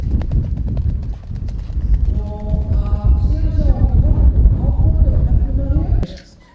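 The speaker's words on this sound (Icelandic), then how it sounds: "það er Guðmundur Björgvinsson sem að situr hestinn" Horse hooves clip-clopping rhythmically as a ridden horse moves at an Icelandic horse gait competition, steady beats under a loudspeaker commentator's voice, ending abruptly.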